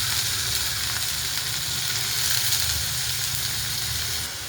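Green beans (ghevda) fry in hot oil with a dense, continuous sizzle and crackle, loud and close throughout, with faint stirring underneath and no voices.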